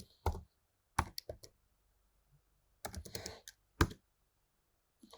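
A computer keyboard being typed on in short bursts of clicky keystrokes separated by silent gaps, close and fairly quiet.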